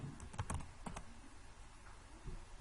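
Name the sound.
typing login name and password on a computer keyboard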